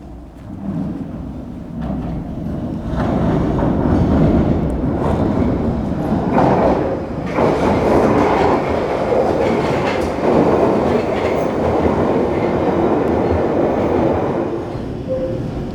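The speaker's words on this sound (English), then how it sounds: "We've just got a train coming in on that crossover." A loud London Underground train at Elephant & Castle station rumbles and rattles over a crossover, a steady roar with clickety-clack wheel beats and squeals, close by and sustained.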